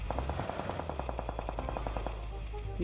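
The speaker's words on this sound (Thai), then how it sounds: "มีเสียงยิงตลอดน่" Rapid bursts of automatic gunfire in PUBG Mobile crackle in a quick steady rhythm, fairly distant and moderate in volume over a constant low rumble, then stop.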